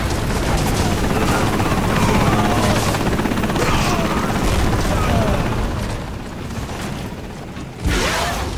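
A helicopter in a video game drones amid dense game noise, with booms and bursts of gunfire layered over a loud, continuous rotor rumble; a voice talks over it.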